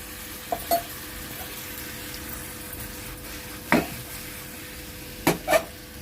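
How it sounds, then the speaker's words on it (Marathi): Vegetables and long-sliced brinjal frying in a pan, a soft steady sizzle broken by a few distinct scraping and clinking stirs of a utensil against the pan, close and moderately quiet. "वांगी देखील अशी लांबडे कापलेत घालून घेऊ मिक्स करून घेऊया व्यवस्थित"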